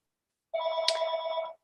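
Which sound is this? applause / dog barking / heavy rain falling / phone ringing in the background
phone ringing in the background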